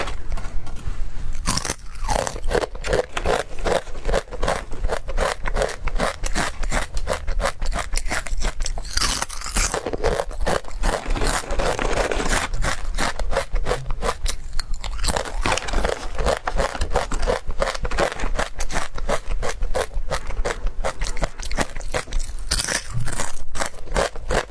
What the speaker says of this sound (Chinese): 膨化蔬菜脆片，